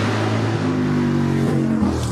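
An orange McLaren Can-Am race car's 8-litre V8 with huge intake trumpets roars loudly and continuously at a hillclimb festival, holding a deep, rich engine note that rises slightly as it accelerates.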